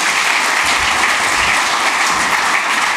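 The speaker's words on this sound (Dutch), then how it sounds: "Dus geef hem een groot applaus." Steady audience applause for a speaker at a talk on area development and tenders, a dense, even clapping that fills the whole moment with no voices over it.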